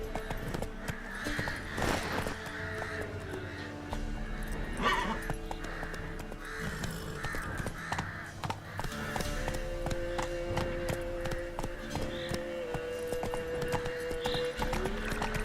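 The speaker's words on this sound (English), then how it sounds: "Not so fast, Roach" Horse hooves clip-clop at a run in The Witcher 3 video game, a steady rhythmic patter over layered game music and ambience, with a brief whinny partway through.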